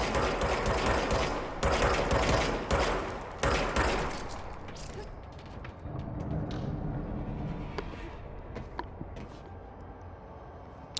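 Rapid gunfire from a weapon in the video game Control, loud dense bursts repeating over several seconds, then thinning into scattered shots and rumbling ambience.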